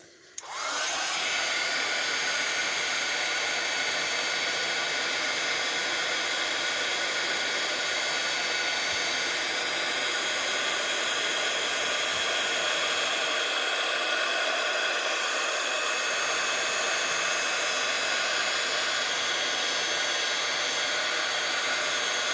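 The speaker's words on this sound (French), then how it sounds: "quand vous faites l'embossage comme ça, faites bien circuler, faites bien tourner votre pistolet à colle" A heat embossing gun blows hot air after a short click on, holding a steady, loud, hissing roar almost unchanged for over twenty seconds, with no one speaking.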